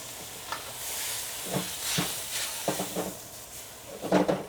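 Eggplant stir-fries in a wok with a Sichuan doubanjiang sauce, fish-fragrant style. Scraping spatula strokes and clatters come in irregular bursts over a steady close sizzle and hiss, with no voices.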